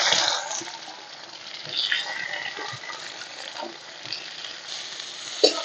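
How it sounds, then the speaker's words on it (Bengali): Chopped onions frying in hot mustard oil in a karahi with whole garam masala and slit green chillies, a steady broad sizzle with brief scraping stirs, close and moderately loud with no talk. "পেঁয়াজটা একটু লাল লাল করে ভেজে নেব।"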